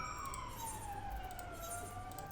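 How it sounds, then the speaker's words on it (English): A siren wails in the distance, its pitch sliding slowly downward over steady background noise, heard during Final Fantasy 14 gameplay. "Oh no, my immersion ruined by sirens."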